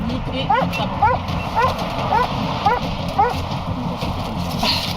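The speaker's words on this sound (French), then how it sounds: "Le chien de la brigade canine entre en action et quand il aboie, c'est qu'il trouve" A police sniffer dog barks repeatedly in short, evenly spaced yips over a low background rumble, about six barks in quick succession.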